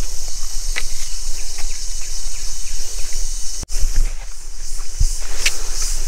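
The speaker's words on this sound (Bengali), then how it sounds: "ঝিঝি পোকার ডাক, বিভিন্ন পোকার আওয়াজ" Crickets and other insects chirp and buzz steadily beside a river canyon on a trek through forest, with a sharp knock partway through and a few soft rustling steps.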